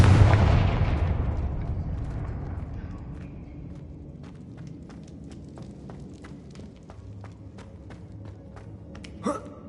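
A Confringo blasting spell in a Harry Potter game bursts open with a loud, broad explosion that fades into a rumbling tail, followed by scattered light ticks and a short sharp crack near the end.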